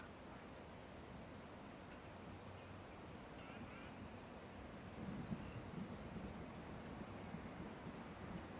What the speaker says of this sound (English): Let him gobble one more time.